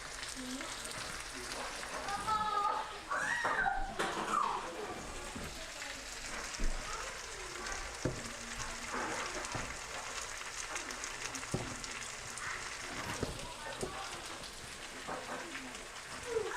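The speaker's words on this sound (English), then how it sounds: "And we can still fry it too." Jamaican curry chicken frying in a pan, a steady crackling sizzle like rain that runs throughout, with brief talk early on and a child's sounds in the background.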